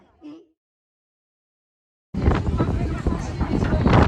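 Strong wind gusting outdoors at a street demonstration in Hendaye, a loud steady rush of wind noise buffeting the microphone after a brief moment of speech and silence.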